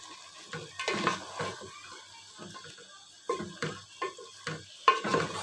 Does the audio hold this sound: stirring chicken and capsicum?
yes